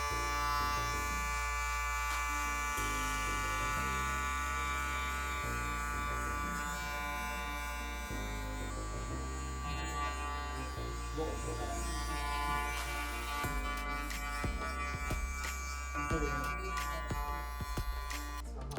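An electric hair clipper buzzes continuously up close while cutting hair for a skin fade, a steady strong hum whose tone shifts slightly as it moves over the head.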